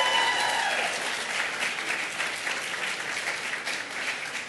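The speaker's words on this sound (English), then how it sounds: "can we please give Tiffany R. Warren a round of applause?" Steady applause from an audience at the ADCOLOR awards ceremony fills the room, a dense wash of many hands clapping that holds at fairly even loudness throughout, with no voices on top.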